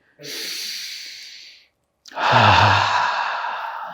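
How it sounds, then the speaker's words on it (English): Two long, deep breaths, a slow airy inhale followed by a fuller, louder exhale after a brief pause, close and with no talking. "A super easy way while in a conversation without taking away from the conversation is to breathe deeply."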